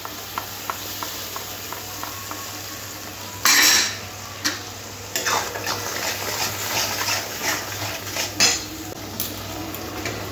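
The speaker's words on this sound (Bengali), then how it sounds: "ভালো করে মশলাটা এবার কষে নিতে হবে।" Spice paste for a Bengali rohu fish curry is stirred and fried in a pan, with a steady low hiss, scattered light scrapes and clinks of a utensil and one louder metallic clatter, close and without speech.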